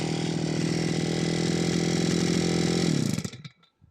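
A Crosser brush cutter's small two-stroke engine runs at a high, steady buzzing whine up close, then is cut and quickly winds down to near silence.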